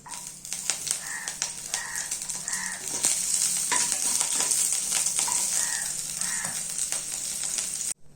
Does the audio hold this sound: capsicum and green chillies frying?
yes